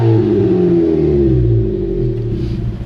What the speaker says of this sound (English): I'm going to take it for a drive, make sure it's good to go.